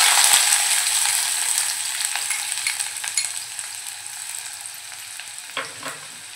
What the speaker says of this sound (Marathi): आपण फोडणीसाठी एक मोठा चमचा तेल गरम करून घेतले, त्यात आता बारीक चिरलेला कांदा घालून घेऊया